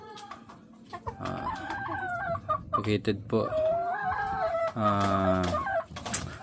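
A breeding hen at Emery Game Farm in Silang, Cavite clucks and crows in repeated bursts, loud and close, with someone talking over and between the calls.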